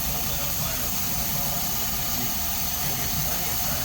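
Car engine idling steadily during a fuel intake service, a constant low rumble with a hissing layer, close and unchanging.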